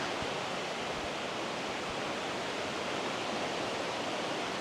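Small side waterfalls in the Welsh countryside at Pontneathvaughan give a steady, broadband rush of falling water, continuous and even throughout with no voices.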